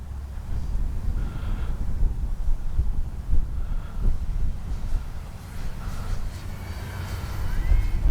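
Durafly 1100mm T-28 Trojan RC model airplane passing overhead, a faint engine whine rising and falling as it flies by, mixed with steady wind buffeting on the microphone outdoors.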